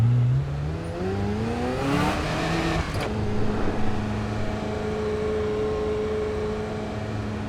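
A sports car engine in Assetto Corsa EVO climbs through a loud, rising rev, peaks with a brief crackle, then settles into a steady, high, sustained drone.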